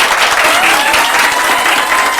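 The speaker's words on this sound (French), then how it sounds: "Applaudissez pour vous." A studio audience of students from a private high school claps loudly on a television programme; dense applause runs through the whole short stretch without a break.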